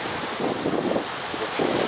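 Sea waves wash onto a sandy beach bordered by pine forest, a continuous broad rushing surf mixed with gusty wind buffeting the microphone.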